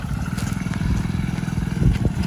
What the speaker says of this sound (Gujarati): એટલે બાઈક ચાલુ થઈ ગયું ખરું ને?